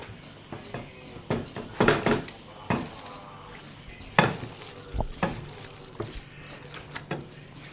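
Massalé de Cabri, a goat curry, being stirred in a pan with a utensil scraping and knocking against the metal under a steady sizzle, in uneven strokes up close.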